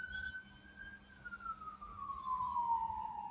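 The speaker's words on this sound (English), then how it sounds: "those sirens were blasting off." A siren wails faintly in the distance, its tone slowly falling over a few seconds against a low background hum.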